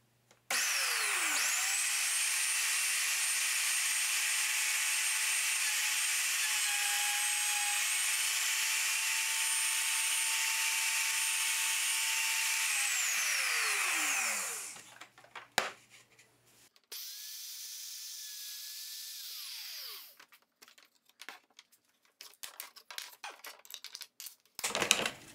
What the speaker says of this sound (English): So now I've got a spiral bit in my router, and I'm going to do a first pass.